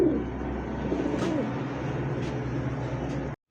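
A tiger-coloured Pakistani highflyer pigeon coos softly and repeatedly at close range, low throaty murmurs over a faint background hum, ending abruptly.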